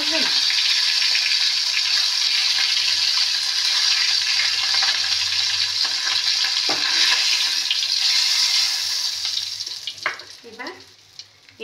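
A fish head frying in hot oil gives a loud, steady close sizzle for most of the stretch, tapering off near the end with a few clinks of a utensil.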